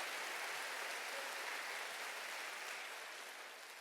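Church congregation at a Wednesday worship service breaks into applause, a dense, even hiss of many hands clapping together, heard steadily and fairly faint with no voices, easing slightly toward the end.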